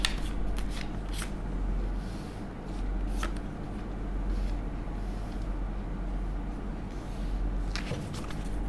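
Tarot cards being shuffled close by, a steady papery riffle with repeated sharp flicks and slaps throughout, no voices.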